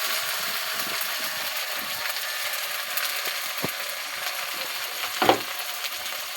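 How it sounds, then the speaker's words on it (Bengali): Fish masala with ginger-garlic paste sautés in a pan, a steady sizzle under repeated scraping and clicking stirs, with one louder knock near the end. "এবার এটাকে নাড়বো, একটু কষে নিই ভালো করে।"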